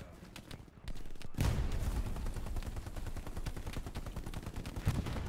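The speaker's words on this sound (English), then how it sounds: "Those people are shooting at me." Sustained crackle of distant and mid-range rifle and machine gun fire in the World War II shooter Hell Let Loose, many overlapping shots rattling steadily after a quieter opening.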